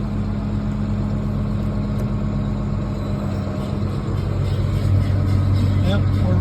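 New Holland Genesis 8670 tractor engine running after a PTO solenoid repair, a steady, close, low idling rumble that holds throughout.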